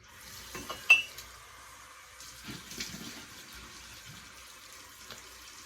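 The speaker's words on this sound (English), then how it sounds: "Nice warm water rinse." Warm tap water runs for a face rinse after a shave, a soft close splash and trickle with a brief louder burst near the start, then steady quiet flow.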